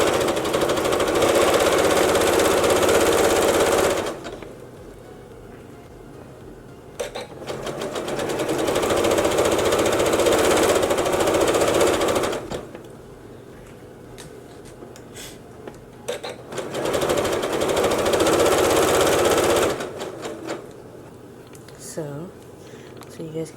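A sewing machine zigzag-stitching four-way stretch knit fabric runs in three long bursts of steady, loud mechanical chatter, with short pauses between them filled by faint handling noises.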